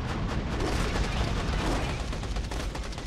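Dense, continuous gunfire and explosions from the video game Borderlands: The Pre-Sequel roar loudly for about three seconds with no pause, a steady barrage of booms and crackling shots.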